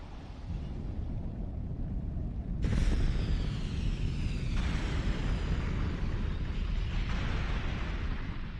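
Krakatoa volcano erupting, a deep continuous rumbling roar with a sudden louder burst partway through, followed by sustained crackling blasts heard from a distance out at sea.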